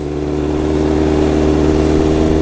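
A 2013 Honda CBR600F motorcycle engine with a full aftermarket exhaust system holds a loud, steady, deep drone with a throaty exhaust tone, close by and continuous.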